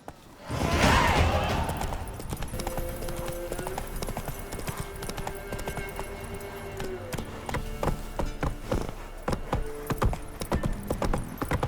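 Horse galloping in The Witcher 3, a fast, steady clip-clop of hooves close by, running continuously with a brief snort or whinny near the start.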